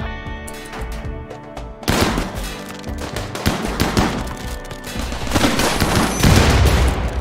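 Gunfire and an explosion in the RimWorld video game: a rapid burst of shots, then a sudden loud blast followed by continuing dense crackling fire and rumbling booms.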